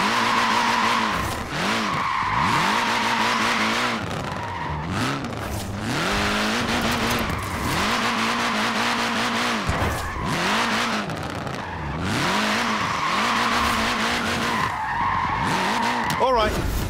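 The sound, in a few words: short-wheelbase front-wheel-drive car sliding, Forza Horizon 4 video game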